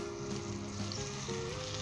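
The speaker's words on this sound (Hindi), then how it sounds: "और इसे 2 मिनट के लिए अच्छे तरीके से फ्राई कर" Potatoes frying in oil with cumin, red chili and ginger for Punjabi aloo bhujia, a low steady sizzle with faint kitchen background, no talk.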